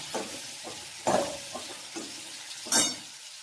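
Coriander powder, turmeric and red chili masala roast in a pan for a drumstick curry, with a faint sizzle under four or five brisk stirring scrapes, the last one louder and hissier.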